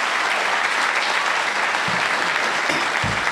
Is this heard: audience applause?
yes